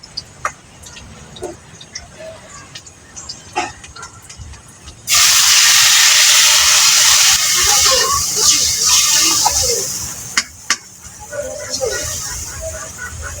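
Spices in a pan burst into loud sizzling and steam as a little water is poured in, the hiss starting abruptly and staying strong, with a few sharp crackles and some talking underneath.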